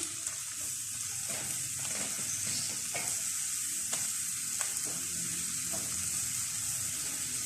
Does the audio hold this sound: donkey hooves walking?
no